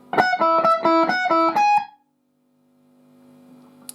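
A distorted electric guitar plays a short fast lick of repeated notes from a song, loud and close, then cuts to near silence with a faint hum.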